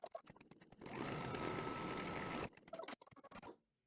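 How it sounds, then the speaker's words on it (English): An embroidery sewing machine runs a tack-down stitch on an in-the-hoop modular table runner: a steady, close mechanical whirr that holds for about two seconds, framed by scattered handling clicks and taps. "I'm going to put this back on my machine and we're going to run that stitch"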